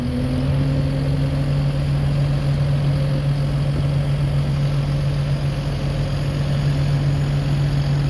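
A Kubota SVL75-2HWC skid steer idles with a steady, unchanging low engine drone and hum, loud and close, continuous throughout with no voices.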